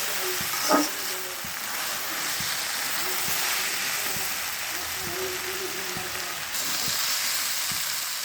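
Yardlong beans and potatoes fry in oil in a pan, giving a steady, close hiss and sizzle with occasional soft taps of a spatula stirring.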